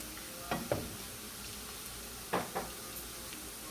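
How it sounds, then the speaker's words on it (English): Garlic dropped into a hot frying pan for a fava bean and sausage dish gives a soft, steady sizzle, with a few brief scraping or clattering accents from the pan. "Now we're going to add our garlic."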